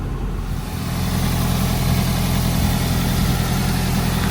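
A Toyota MR2 Spyder idles with its AC compressor running, giving a steady, close, low rumbling hum that holds level throughout with no talk.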